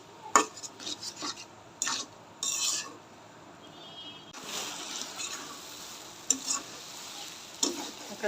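Potato and semolina dough being stirred and pressed in a hot pan, giving irregular scraping and clacking strokes of a utensil against the pan with a soft sizzle, close and fairly loud, no talking.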